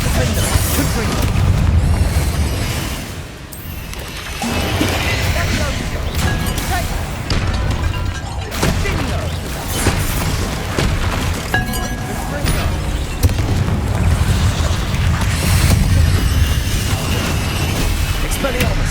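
Spell explosions from Confringo and Bombarda in Hogwarts Legacy pile up with dense booms, crashes and clinking impacts in a continuous loud battle din, while a voice keeps calling out spell names over the fight.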